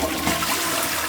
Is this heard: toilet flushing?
yes